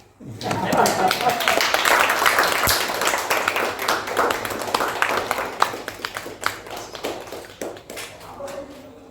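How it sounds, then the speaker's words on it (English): Audience clapping at an innovation mission event in India, many hands in a dense burst that peaks early, then thins into scattered claps and fades, with a voice speaking faintly underneath. "Feel free to clap"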